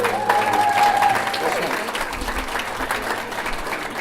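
Steady clapping from a crowd at an awards ceremony, applauding a band, dense and sustained throughout, with a voice faintly present underneath.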